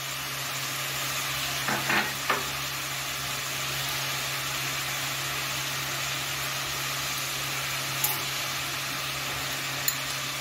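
Onion and green chilli sizzle steadily as they fry in a pan, a soft, even hiss with a few brief clinks and stirring scrapes near the start and later on.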